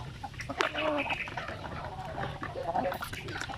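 Basilan native chickens and RTL hens cluck and call in a farmyard setting, with overlapping soft cackles and clucks at moderate distance over steady outdoor background noise.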